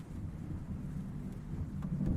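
Thunder from a thunderstorm rolls as a faint, low rumble under a steady wash of rain and wind, with no voices.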